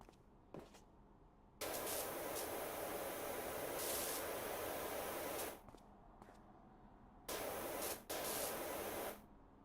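Pressure washer spraying in the video game Power Wash Simulator, a loud steady hissing jet in long bursts of several seconds that cut off abruptly between sprays, with quieter gaps.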